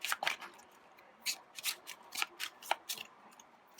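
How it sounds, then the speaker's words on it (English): A deck of game cards for the board game Aeon's End Legacy being shuffled by hand in a quiet room, with crisp riffling bursts repeating in quick irregular runs. "Get these shuffled in there."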